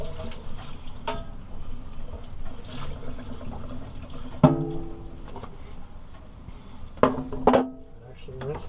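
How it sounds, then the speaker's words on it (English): Running water from a tap rinses sandpaper and a sanded boat portlight, a steady trickle broken by occasional splashes and clatters as someone talks over it. "Actually rinse the end of the sandpaper too."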